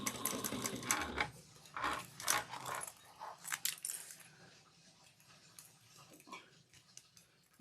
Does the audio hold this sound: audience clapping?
no